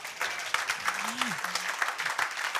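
A church congregation claps and cheers for Jesus, dense steady applause throughout with a voice calling out over it, close and lively.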